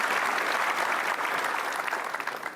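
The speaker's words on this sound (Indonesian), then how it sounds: "Kita ucapkan terima kasih dan tepuk tangan sekali lagi untuk para sahabat-sahabat super kita." Studio audience at a televised talk show applauds, a dense, steady burst of clapping from many hands that fills the whole moment and tapers slightly at the end.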